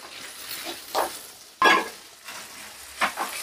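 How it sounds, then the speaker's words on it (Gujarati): Boiled whole moong sheero stirred and pressed down as it roasts in ghee over low heat, giving soft scraping strokes and a gentle sizzle that swell in several separate bursts, close by with no talking. "આપણે દબાવી લેવાનું ને એને ધીરા તાપે જ શેકવાનો છે"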